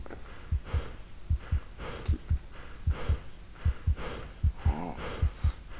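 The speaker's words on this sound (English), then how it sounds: "Stop breathing so loud." Heavy, rhythmic breathing close to a microphone during the horror game The Monastery, steady paired pulses roughly every half second, loud and alone without any talk.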